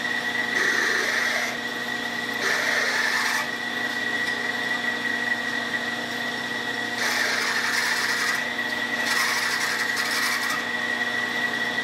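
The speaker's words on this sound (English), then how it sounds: "Now we're just boring through the steel flange until it gets soft, and that means we're into aluminum." Steel flange of a front motorcycle sprocket being bored out on mechanically operated machinery: a steady, grinding machining whir with a constant high whine and rasping surges, sustained throughout with no talking.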